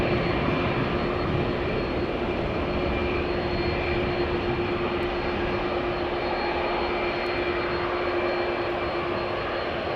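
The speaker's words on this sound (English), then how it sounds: "Boeing 737-800 going to London Heathrow, lined up, ready to go." A Boeing 737-800 jet airliner bound for London Heathrow sits lined up for takeoff at Amsterdam Schiphol, its engines humming in a constant, even roar with a sustained whine throughout.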